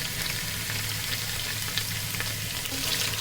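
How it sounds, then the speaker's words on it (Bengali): Whole spices such as shahi jeera and mace sizzle steadily in hot oil for beef biryani, a dense continuous crackle with faint stirring underneath and no voices. "মশলাটা ভেজে নিচ্ছি।"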